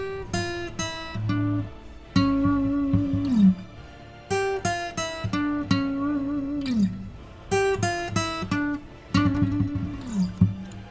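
Dark orchestral boss-battle music from the Demon's Souls remake soundtrack, with heavy low brass swells, sustained chords and sharp percussive hits recurring in roughly three-second phrases that slide downward at their ends, played alone.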